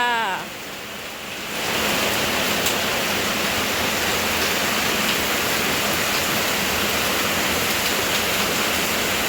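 Heavy storm rain pours through the night over a farmhouse with a leaking roof beside flooded rice fields, a dense steady roar that swells in after a brief quieter opening and holds loud and unbroken.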